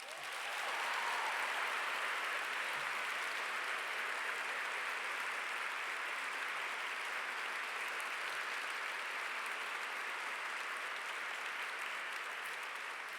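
Sustained applause from a large audience at the Australians of the Year awards, a broad, even wash of clapping that holds steady for the whole stretch without any voices over it.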